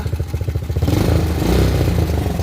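Engine revving up loudly as the throttle is opened, a rough pulsing idle rising to a sustained, strained roar with some rattling clatter, close and with no talk over it.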